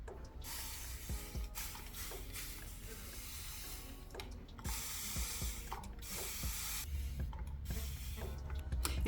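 Running water splashes and sprays steadily while hair is being wetted at a sink, with a continuous hiss and intermittent sharper spatters and clicks, loud and close throughout.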